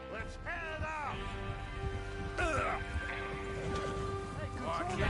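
Horse hooves clop steadily in the video game Red Dead Redemption 2 under a voice, with a rumbling background and occasional bursts of noise.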